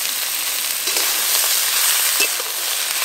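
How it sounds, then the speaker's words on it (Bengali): Potato, eggplant and pumpkin greens fry in oil left from frying prawns, a continuous close sizzle with faint stirring scrapes and no talk. "চিংড়ি মাছ ভাজার তেলে আমি সমস্ত সবজিগুলো ভেজে নেব"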